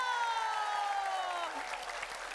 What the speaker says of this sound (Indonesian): Tangerang, tepuk tangan dulu.